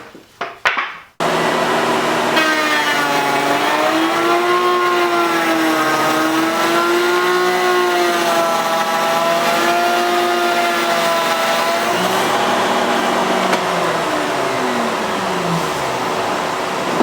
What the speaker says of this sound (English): Now we'll make a test cut just to make sure, and to make sure that we have the height of the bit correct.